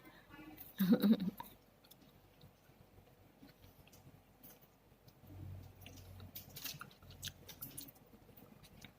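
Someone chews sweet tamarind close to the mic, a short louder bite early on, then soft intermittent squishy chewing over faint background noise, with occasional quiet voices.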